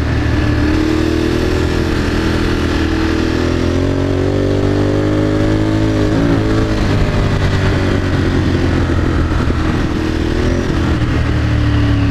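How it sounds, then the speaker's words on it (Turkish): A Honda CG motorcycle engine roars loudly and steadily close by, its exhaust droning with slight pitch shifts as it revs. "egzozun sesinden ben adamın ne dediğini anlamıyorum ki"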